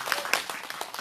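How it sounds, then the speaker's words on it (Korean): A short burst of scattered hand clapping from a group at a Wednesday rally in Soseong-ri, South Korea, brief and fairly close. "큰 박수로 감사합니다."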